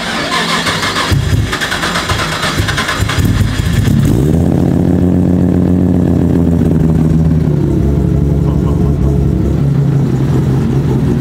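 A Nissan R35 GTR running on E85 fires up with a loud rough roar that settles into a steady, choppy idle, close and alone for the rest of the clip.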